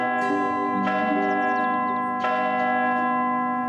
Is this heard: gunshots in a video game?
no